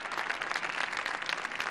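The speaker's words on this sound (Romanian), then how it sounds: "aplauze!" An audience applauds at a comedic televised awards gala. The clapping is lively, continuous and fairly close, and no voices sit on top of it.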